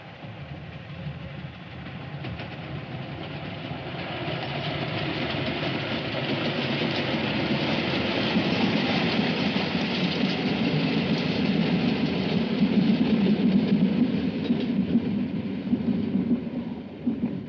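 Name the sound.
steam train in a film scene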